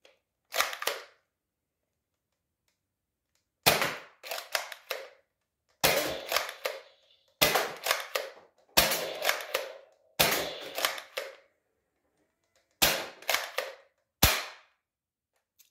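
A modified Nerf Strongarm blaster fires Worker Gen 1 foam darts, giving eight loud, sharp, close-up cracks. Each shot is followed by a brief rattle of priming, and there is silence between shots.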